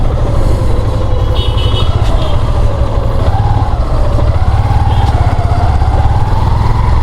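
A motorcycle rides past a line of queued traffic, its engine a steady, close drone that rises and falls slightly throughout without a break.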